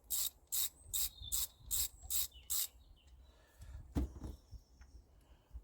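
Ratcheting wrench clicks in a quick run of about seven bursts while an idler pulley bolt is backed out on an Iveco Daily cam belt job, then softer metallic fiddling and a sharp knock.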